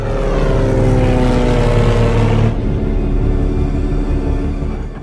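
A propeller airplane drones steadily in flight, loud and close, its engine tone shifting partway through as the cabin rumble continues, with no talk.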